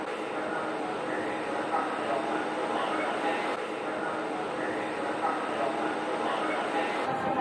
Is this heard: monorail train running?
yes